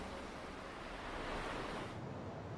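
Sea waves wash onto a shore in a steady, dense roar of surf, continuous and fairly full, with no voices present.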